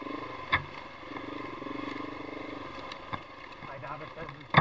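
A 2023 GasGas 700 motorcycle is ridden on a mountain trail at Crooked Summit near Boise, Idaho, its engine giving a steady, moderate drone with occasional clatter, under a rider talking.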